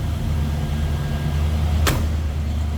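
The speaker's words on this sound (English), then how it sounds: "Door closes nicely." A single solid thunk as the door of a 1957 Chevrolet Bel Air two-door hardtop swings shut, one sharp close impact over the low steady rumble of the idling car.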